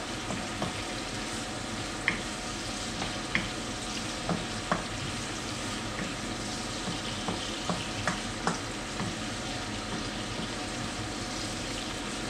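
Food sizzling steadily in a pan, a continuous close crackling fry with scattered sharp pops and spits throughout, alone without talk.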